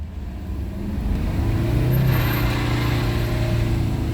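A Mercedes 300SD W126 diesel with a freshly replaced fuel filter runs with a steady, close, loud low rumble and a slight rise in revs midway, with no talk over it.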